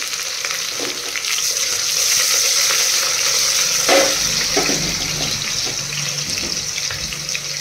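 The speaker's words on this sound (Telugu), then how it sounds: "ఇప్పుడు ఆనియన్స్ వేసుకొని కొద్దిగా ఫ్రై అవనివ్వాలి" Onions, added after fenugreek seeds, fry in a pan for a bottle gourd tamarind stew, giving a continuous loud hiss and sizzle with occasional clinks and scrapes of stirring.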